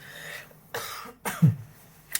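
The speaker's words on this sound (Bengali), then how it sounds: "আজকে প্রচন্ড কাশি আসতেছে।" Several sharp coughs from a nearby person come in quick separate bursts with short pauses between them, alone with no talking.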